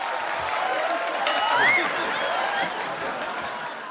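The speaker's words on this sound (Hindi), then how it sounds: "जोरदार तालियां" Loud applause from a studio audience on a Hindi comedy talk show, a dense steady wash of clapping with a few voices mixed in, lasting about four seconds.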